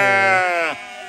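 Sheep bleating on a farm during lambing season, ewes calling for their lambs: one long, loud, wavering bleat close by, lasting about a second and fading at the end, with no talk.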